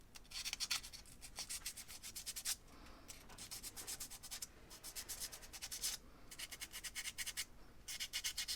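Sandpaper rubs by hand in quick back-and-forth strokes, a rhythmic scratchy rasping in bursts separated by brief pauses, close and fairly quiet.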